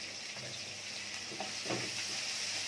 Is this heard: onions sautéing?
yes